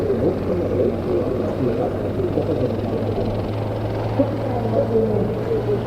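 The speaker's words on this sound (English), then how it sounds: "There was the Mi-171 off in the distance, gaining altitude." A Mi-171 helicopter climbs far off at an air force show, its steady low rotor drone running faintly under a commentator's continuous talk.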